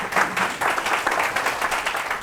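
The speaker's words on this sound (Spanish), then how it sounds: "Por favor, un fuerte aplauso para el doctor Lasarte." A conference audience breaks into strong, continuous applause to welcome a lawyer onto the stage, loud and close, with many hands clapping in a dense, even patter.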